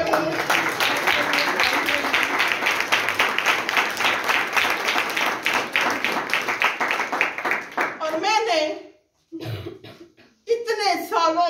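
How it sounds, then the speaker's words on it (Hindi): A church congregation at a Helping Hands Church Ministry service breaks into dense, loud applause for about eight seconds, then the clapping stops and voices speak briefly. "जोरदार तालियां बरदरा"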